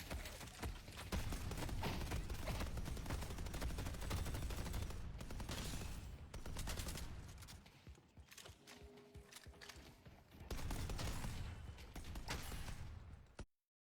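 A video game turret fires in rapid, dense mechanical bursts, loud and continuous with brief lulls, under busy game sound effects.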